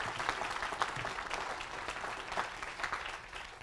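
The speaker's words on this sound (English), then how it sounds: "Can we clap it up one more time for Miss Adams?" An audience at a teen center grand opening claps steadily for a few seconds, a soft, fairly distant patter of many hands with no voices over it.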